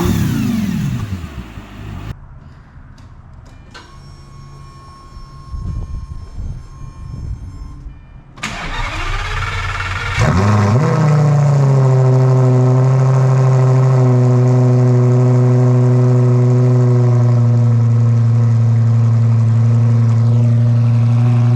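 A car engine with a Top Speed Pro-1 race pipe muffler delete starts and settles into a loud, deep, rumbling idle with a raspy exhaust tone, steady and close after a few mechanical clicks.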